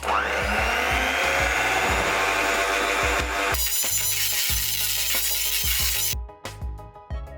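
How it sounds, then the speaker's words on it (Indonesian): Electric hand mixer running at its lowest speed through sticky rice flour batter, a loud steady motor whir with beaters knocking in the bowl, cutting off near the end. "Lalu mixer dengan kecepatan paling rendah hingga tercampur rata."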